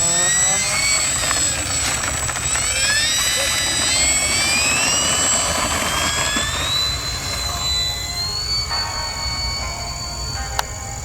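An HobbyKing Arrows Corsair 1100mm electric RC plane with added nose weight, taking off and flying. Its motor gives a continuous high whine that rises and falls in pitch as it passes, heard outdoors over steady wind noise.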